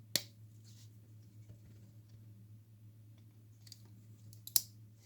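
Victorinox Swisstool Spirit scissors locking into place give two crisp, faint metallic clicks, one near the start and one near the end, over a quiet background hum.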